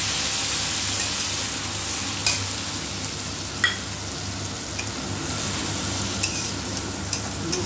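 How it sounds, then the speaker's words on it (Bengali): A spice paste fries in oil with cumin seeds for a fish curry. A dense steady sizzle runs throughout, broken now and then by soft scrapes and clinks of stirring. "মশলাটাকে সুন্দর করে কষিয়ে নিতে হবে একদম।"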